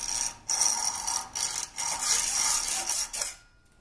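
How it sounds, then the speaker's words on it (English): A hacksaw cuts a small metal piece clamped in a tight vise, giving a run of bright, rasping strokes in uneven bursts that stop near the end. No voices. "And now I'm going to make sure the vise is tight, and then I'm going to come in with my hacksaw"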